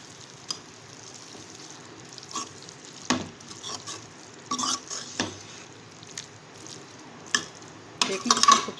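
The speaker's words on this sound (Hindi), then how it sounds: "अब मैं इसमें ये कीमा डाल दूँगी। और इसको भून लूँगी मसाले के साथ अच्छी तरीके से।" Minced meat stir-fried with masala in a pan: quiet frying with a soft sizzle, broken by intermittent scrapes and clinks of a spoon stirring against the pan.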